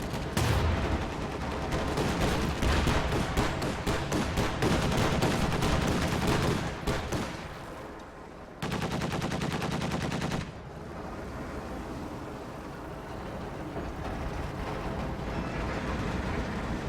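Gunfire from a World War II shooter game, probably Hell Let Loose: sustained bursts of machine-gun and rifle fire crackle loud and dense, then break off into a quieter stretch of scattered battlefield noise.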